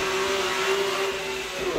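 A Mercedes SLS supercar engine accelerates on a racetrack set up at Beaulieu, a steady loud engine tone holding throughout at close range with no voices.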